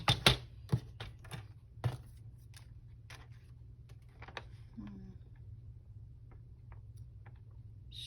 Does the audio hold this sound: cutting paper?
yes